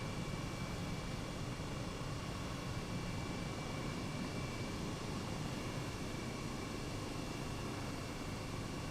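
A helicopter in Microsoft Flight Simulator, flown with a T-1600M flight stick, gives a steady, quiet, hissing engine and rotor drone that holds constant throughout, with no talking.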